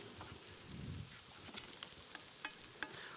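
Cep and chanterelle mushrooms frying in a pan, a soft steady sizzle with faint scattered pops and a brief low rustle of stirring, quiet and close.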